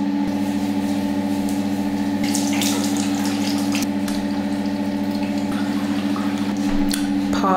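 Tap water runs steadily into a sink during face washing, a close, continuous rushing stream with a faint hum beneath and occasional small splashes and clinks.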